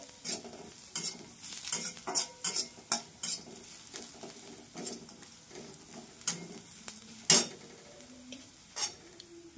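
Lentils and coriander seeds dry-roasting in a pan with browned coconut and onion, with a soft steady sizzle broken by repeated scraping stir strokes and occasional spoon clinks, close and moderately loud.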